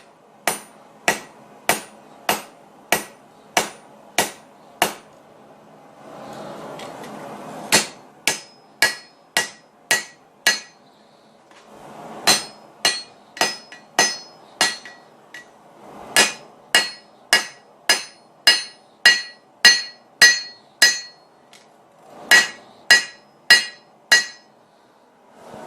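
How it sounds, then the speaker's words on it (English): Hammer blows ring out on a Bowie knife blade being forged, in quick evenly spaced bursts of sharp metallic strikes, loud and close, separated by short pauses between sets. "continue forging that blade"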